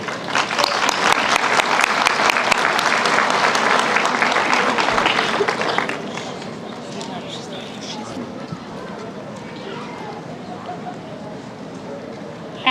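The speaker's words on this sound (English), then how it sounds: "thank you for giving her a round of applause" A graduation audience at a dental assisting program ceremony claps loudly and densely for several seconds, then the applause fades into quieter room murmur and scattered noise.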